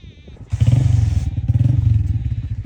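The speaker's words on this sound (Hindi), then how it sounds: "और भाई मोटरसाइकिल स्टार्ट करो तुसी।" A motorcycle engine turns over and idles nearby, a loud rhythmic low chugging with a brief clatter at the start, continuing steadily throughout.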